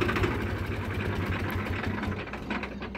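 A Swaraj tractor engine idles nearby with a steady, pulsing knock that fades slightly toward the end, heard alone without talk.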